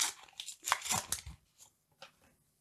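A Pokémon paper booster pack being torn open, close and crisp, with several sharp tearing and crinkling bursts followed by a few faint rustles.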